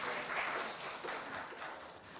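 Audience at a university campus town startup fair applauds the head of the campus town support center, a soft, distant, continuous patter of many hands lasting a couple of seconds.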